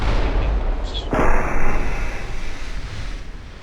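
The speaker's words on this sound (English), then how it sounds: "They can just shoot across the map." Artillery gunfire in the naval video game UA:D, with a heavy boom rolling out over a dense, continuous rumble of battle noise, loud and close with no talk.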